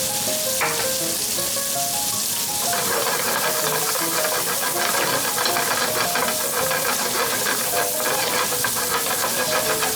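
Bacon frying on high flame, a loud steady sizzle and hiss that carries on without a break, with faint stirring and a low steady hum underneath.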